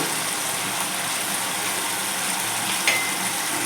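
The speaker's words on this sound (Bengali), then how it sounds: "এবার মশলাটাকে একটু ভালো করে কষে নেবো" A ginger, cumin and tomato spice paste fries in oil for a vegetarian potato-pointed gourd muri ghonto, producing a steady, dense sizzle with a brief scrape near the end.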